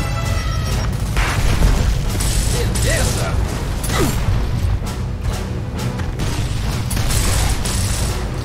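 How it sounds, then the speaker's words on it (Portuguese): A loud grenade blast in Gears of War: Ultimate Edition amid mechanical clanks and rattling gunfire, busy and close throughout. "Lançando granada."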